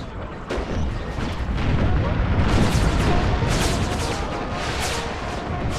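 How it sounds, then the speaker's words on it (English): Massed artillery firing at will in an Empire: Total War American Civil War mod battle, with dense overlapping booms and rumbling blasts that run loud and continuous throughout. "we're going to see what kind of damage all artillery can produce together"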